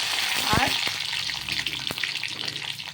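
Onion and capsicum go into hot oil in a pan, giving a close, continuous frying sizzle with a brief clatter early on and a sharp tap later.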